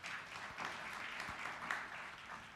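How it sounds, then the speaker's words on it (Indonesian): Church congregation applauding during a sermon, a soft, steady wash of clapping heard from some distance with no voices over it. "Beri tepuk tangan yang meriah bagi Tuhan."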